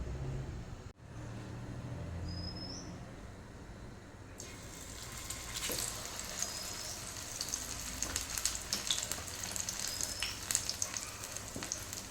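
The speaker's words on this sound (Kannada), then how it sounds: "ಹಾಗಾಗಿ ಇವಾಗ ಇದನ್ನು ಫ್ರೈ ಮಾಡ್ತೇನೆ" Brinjal (eggplant) frying in a pan, a steady hissing sizzle that grows louder and brighter partway through, then carries on with scraping and crackling.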